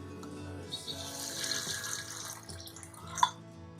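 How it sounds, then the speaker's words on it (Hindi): Water runs from a tap into a blender jar, a continuous splashing, gurgling pour that shifts in tone as it fills, close and fairly quiet, with one brief clink near the end and no voices. "पानी डाल दें ब्लेंडिंग जार में।"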